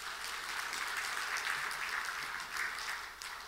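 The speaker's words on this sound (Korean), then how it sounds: "우리 하나님 앞에 박수로 한번 영광 돌려줍시다." A church congregation applauding during a Wednesday evening service, a steady wash of clapping from many hands at moderate distance, lasting a few seconds and easing slightly at the end.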